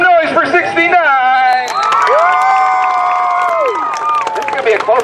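Spectators at a Power Wheels demolition derby cheer, shout and clap loudly, excited children's and adults' voices rising in sustained whoops above a noisy crowd.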